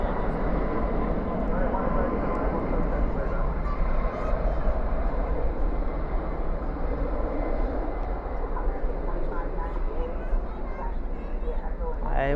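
Airliner roaring down the runway after touchdown at night at DFW airport, spoilers up and thrust reversers out, a loud steady rushing drone throughout with a voice talking over it.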